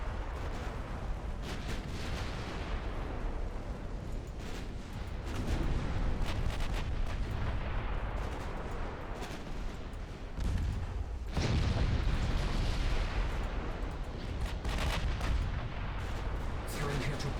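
Naval guns boom repeatedly during a warship battle in the video game Ultimate Admiral Dreadnoughts, with heavy rolling blasts and rumbling bursts over a continuous din, one salvo especially loud partway through.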